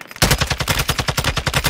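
Rapid automatic gunfire in the video game Warzone 2, a dense burst of about fifteen evenly spaced, punchy shots fired continuously after a brief silent start, loud and close with no talking.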